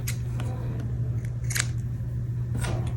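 Scissors snip loose yarn ends on a crocheted beanie, giving a few sharp, close cuts spaced irregularly over a low steady hum.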